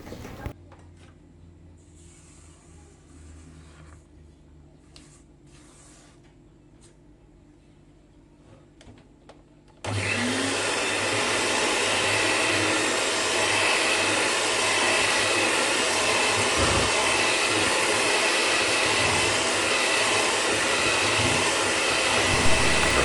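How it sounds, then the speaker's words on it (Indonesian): An electric hand mixer starts abruptly partway through and whirs loud and steady while beating pineapple-jam cookie dough for Lekker Holland, after a quiet stretch of faint kitchen handling sounds. "Lalu kita pakai mixer."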